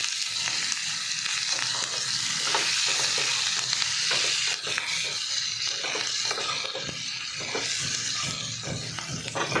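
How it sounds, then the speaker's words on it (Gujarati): Green chillies tempered in hot oil with mustard seeds, a pinch of asafoetida and turmeric: a loud, continuous close sizzle with stirring scrapes throughout, no voices. "આ ચપટી હિંગ મૂકીશું, એક ચપટી હળદર નાખીશું અને આપણે મરચાંનો વઘાર કરી દઈશું."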